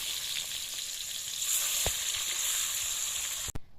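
Fish fries in hot oil in a pan with a steady, close sizzle and crackle, a brief clatter near the end.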